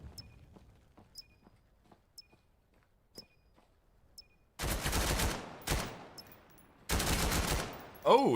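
Pistol fire in the VR shooter VAIL during a competitive playoff match: faint clicks and footsteps give way to two loud, dense bursts of gunfire with ringing tails, close and harsh over a quiet game backdrop.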